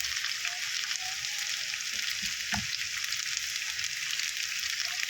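Bitter gourd (ampalaya) frying in a pan, a steady close sizzle broken by a few scraping stirs and a soft knock near the middle.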